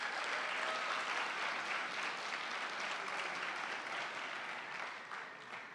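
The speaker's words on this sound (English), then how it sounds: "Let's give another round of applause." Steady, loud applause from a convocation audience fills the hall without a break, tapering slightly near the end, with no voices rising above the clapping.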